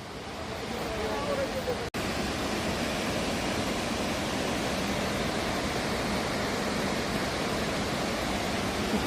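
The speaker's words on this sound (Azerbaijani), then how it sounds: "Şəlalə budur." The Avyarud waterfall near Astara, Azerbaijan, roars in a dense, unbroken rush heard up close, with one brief dropout near the start.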